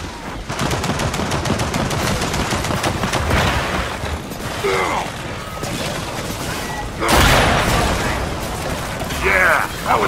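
Rapid turret gunfire from the shooter game Gears of War 4 rattles in dense, continuous bursts, loud and close, with mechanical clanks and brief gaps between volleys.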